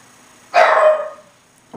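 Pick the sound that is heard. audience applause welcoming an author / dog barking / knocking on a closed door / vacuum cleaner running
dog barking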